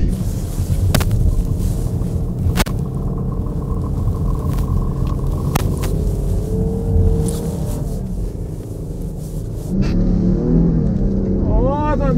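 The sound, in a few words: Toyota Land Cruiser Prado accelerating off-road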